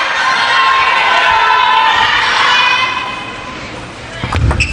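A crowd at a table tennis match in Yokohama roars and cheers loudly, with shouts rising and falling over several seconds, ending in a sharp thud and more commotion.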